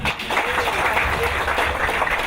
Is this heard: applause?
yes